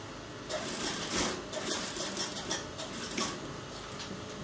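Sewing machine stitching a folded hem on a senator top, a faint rapid mechanical whir in short uneven bursts, quiet and close with no speech.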